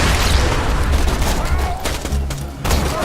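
Sustained loud gunfire and explosive booms from the video game Borderlands 2, a dense fusillade running throughout with voices talking over it.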